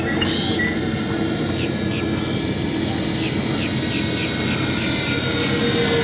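An Avios Albatros V2 radio-controlled plane makes a low flyby, its engine a steady, continuous drone over outdoor background noise, with a faint voice present.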